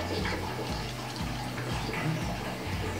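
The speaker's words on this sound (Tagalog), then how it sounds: "Hugasan ko pa, babanlawan ko pa yan." Cassava leaves are washed and rinsed in water while someone talks nearby. Steady sloshing and running water sound continuously and close, with low rhythmic thumps underneath.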